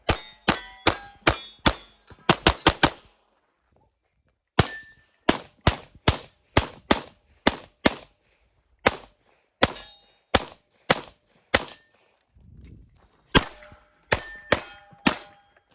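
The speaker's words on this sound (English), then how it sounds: "before they even hear the ding of steel" Bullets strike steel shooting targets, producing sharp metallic clangs and ringing dings in rapid bursts, a volley of shots, a pause, then steady repeated hits with brief gaps, loud and crisp with no talking.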